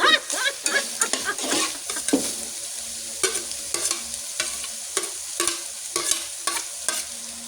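Vegetables stir-fried in a hot pan for tortang macao, with a continuous sizzle broken by repeated sharp scraping and clattering strokes of a utensil in an uneven rhythm, close and loud.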